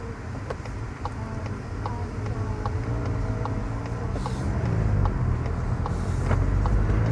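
Steady in-car road noise from a Volkswagen Golf GTI driving on the road during a convoy road trip, a continuous low rumble of engine and tyres that swells slightly toward the end, with no talk.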